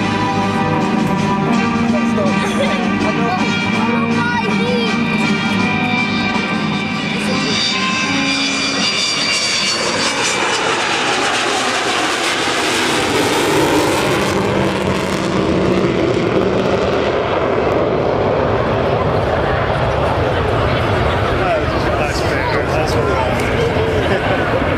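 Avro Vulcan jet bomber flying past at the Leuchars airshow, a loud continuous roaring engine drone that rises and sweeps in pitch as it passes, with a commentator's voice over a public address system throughout.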